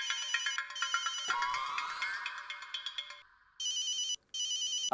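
An electronic telephone ringtone in a Hindi TV comedy trills in repeated bursts with a rising sweep, then short pulsing rings resume after a brief pause.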